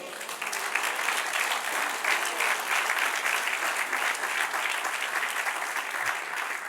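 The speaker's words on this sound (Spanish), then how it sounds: "Dale un aplauso, Señor." A church congregation claps steadily and loudly throughout, a sustained burst of applause with no pauses.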